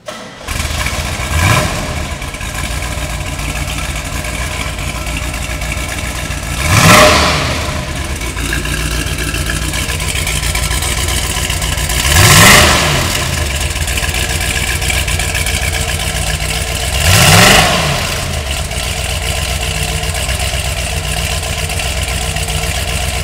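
A big block V8 in a Corvette, 1965 and 1971 models, idling with a deep loping rumble, punctuated by four short revs spaced several seconds apart, close and loud.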